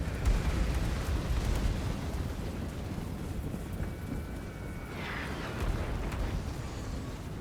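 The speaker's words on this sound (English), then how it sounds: "Oh, those are mortars." Mortar explosions in Total War: Warhammer batter troops with a dense, rumbling barrage of booms and crackling impacts, heavy and continuous across the battlefield din, with a faint high whistle of incoming shells midway.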